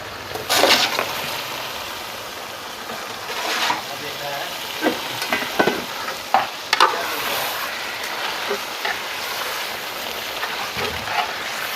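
Chicken goes into a pot with potatoes and pumpkin that are already frying, giving a steady close sizzle broken by clanks and scrapes of stirring.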